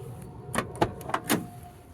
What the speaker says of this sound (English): The doors open and shut nice.